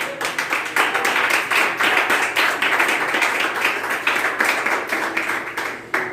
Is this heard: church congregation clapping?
yes